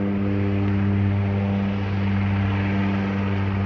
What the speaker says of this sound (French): J'avais commandé un avion qui décolle au moment où je fais la vidéo.